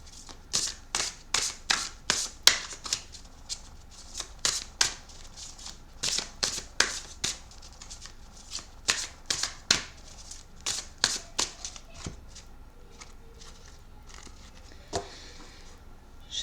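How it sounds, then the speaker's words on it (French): Oracle cards being shuffled by hand, a fast run of crisp riffling and slapping bursts that repeats steadily for about twelve seconds, then thins into a few scattered taps. Close, quiet and with no voice over it. "Alors, je vais mélanger les cartes."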